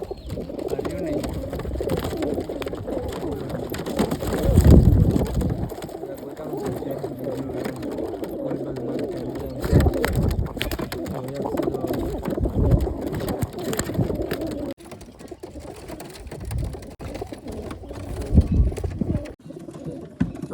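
Pigeons, including Siraji birds, cooing in a pigeon market, soft repeated coos close by over a busy background, with someone talking through much of it.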